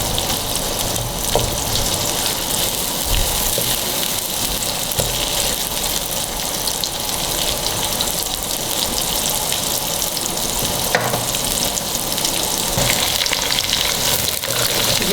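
Onions for chicken daleem fry in a pan with a loud, steady crackling sizzle that continues for the whole stretch, close up with no voice heard.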